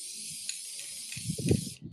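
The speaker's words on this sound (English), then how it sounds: "all the spray lacquer is going to fly away" Spray lacquer hissing from a can onto a clay sculpture in a studio, a steady close airy spray running almost two seconds with a few soft handling knocks near the end.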